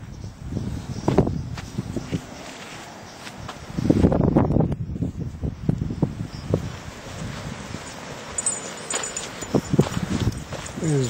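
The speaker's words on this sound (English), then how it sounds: "It is windy." Wind blows outdoors on a blustery day, rumbling against the microphone in irregular gusts, with brief knocks and a faint voice in places.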